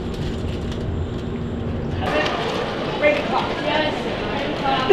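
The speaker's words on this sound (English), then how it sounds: "I'd like to be the driver of this train" Disney resort transport train in motion, a steady rumble and clatter of the rail car with rhythmic clacks, heard from inside with people talking throughout.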